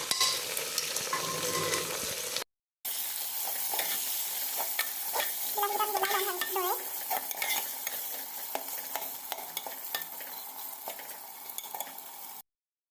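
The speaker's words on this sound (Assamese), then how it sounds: "আৰু এইকেইটাও ধুনীয়াকৈ গলাই ল'ম ভাজি" Tomatoes sizzle steadily in hot oil in a pan, a dense, continuous frying hiss with light stirring scrapes. It cuts out briefly near the start and again just before the end.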